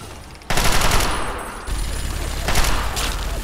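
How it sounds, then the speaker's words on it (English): Rapid automatic gunfire from Fallout 3 gameplay erupts after half a second. Dense bursts of loud, close shots hammer on with brief dips in intensity. "How many bullets do I have to pump into this sucker?"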